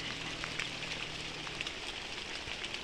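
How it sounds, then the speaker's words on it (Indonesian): Steady rain falls on a coffee plantation, a dense, even patter close by with scattered louder drops and no voices. "karena hari ini hujan"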